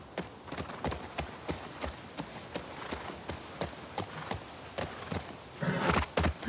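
Horse hooves clip-clopping in a steady trotting rhythm while riding in The Last of Us Part 2, moderately close with a brief heavier burst near the end and no talk.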